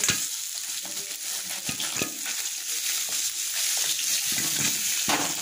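Rui fish pieces frying in hot oil in a pan, giving a constant loud crackling sizzle with occasional clinks and scrapes as pieces are turned and lifted, close up with no talk.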